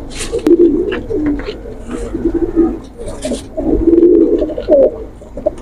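A female Sialkoti pigeon coos near the microphone in repeated soft, rolling bursts, with faint chirps and rustling in between.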